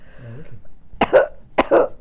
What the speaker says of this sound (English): You make me want to clear my throat, too.